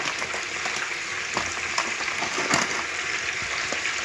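Bone-in pork chops brown in a hot pan for a Jamaican brown stew, a steady crackling sizzle with small spitting pops, close and fairly quiet, no voices.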